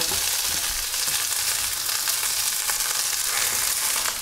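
Small onions and a halved garlic head sizzle with pork in a pot for a beer-braised pork shank, a loud, continuous hissing fry with faint stirring, no voices.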